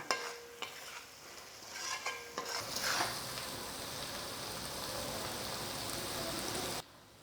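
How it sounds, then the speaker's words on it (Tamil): Capsicum pieces sautéing in thick prawn gravy, a steady close sizzle with a few spoon scrapes against the pan near the start, running alone and cutting off abruptly at the end. "குடமிளகாயில் சின்ன பீஸ் எடுத்து இந்த மாதிரி பொடி பொடியாக கட் பண்ணது இருக்கும் இல்லையா அதை எடுத்து இப்படி ஃபைனலாக போட்டுருங்க போட்டுட்டு இதை நல்லா ஒரு வதக்கு வதக்கிடுங்க"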